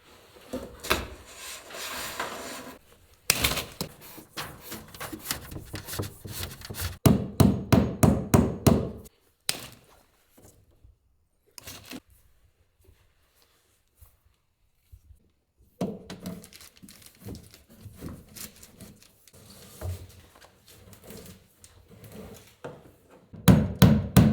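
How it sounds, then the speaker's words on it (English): A hammer driving nails into the wooden wall of a cabin being readied for insulation, with bursts of rapid, loud, close strikes broken by pauses and quieter stretches. "I like how you just use the side of the hammer."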